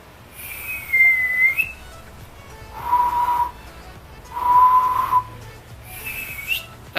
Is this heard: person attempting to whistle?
yes